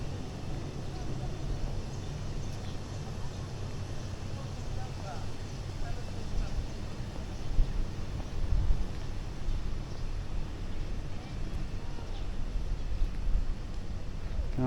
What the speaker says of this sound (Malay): Baru berangin ya. Tadi tak berangin.